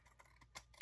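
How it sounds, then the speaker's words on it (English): Scissors cut paper for a papercraft envelope project, giving a few quiet, quick snips close by, the last one the sharpest, with no talking. "So I guess I'll have to use my scissors anyway"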